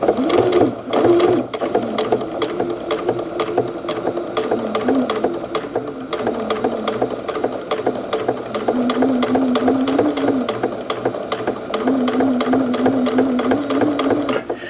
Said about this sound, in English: now we're going over to a Janome Skyline S5 that I purchased in 2015. So let's hear how this sounds.